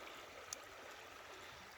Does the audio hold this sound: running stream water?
yes